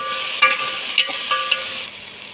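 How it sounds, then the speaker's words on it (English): Green paprika and onion fry with a bright, hissing sizzle for beef pilau, broken by several sharp scrapes and clinks as they are stirred quickly. The sound is close, and no one speaks. "Stir them quickly."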